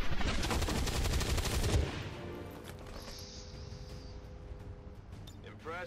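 Rapid automatic gunfire from the video game XCOM 2 rattles loudly for about two seconds, then cuts off, followed by quieter game effects and a few faint clicks and thuds.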